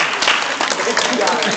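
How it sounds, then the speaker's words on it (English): An audience claps in dense, steady applause for athletes' parents, a broad wash of hand claps sustained throughout with no clear voices above it. "Can we give our parents, athletes a round of applause for being there for us?"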